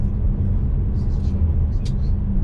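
A Tesla on Full Self-Driving rolls along a road, heard from inside as a steady, loud low rumble of road and tyre noise, with a few faint higher blips.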